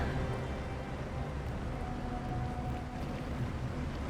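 A boat engine hums low and steady in Detroit: Become Human, a continuous rumbling drone mixed with wind and water noise, with no voices over it.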